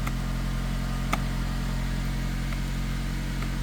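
Suzuki Kizashi car engine running steadily with a low idle hum, close and continuous, with one brief click partway through and no talk.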